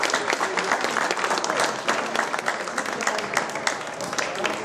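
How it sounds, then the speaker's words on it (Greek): Audience applause at a memorial event on Syros, steady dense clapping from a crowd that fills the whole stretch at a fairly loud, even level. "χειροκροτήστε τους"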